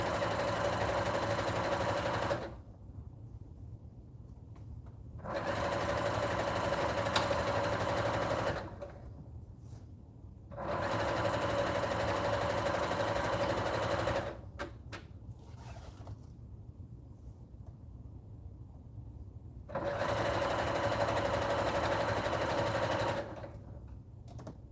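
An embroidery machine runs in long, steady stretches of several seconds each, separated by quieter pauses, close and even with no talking.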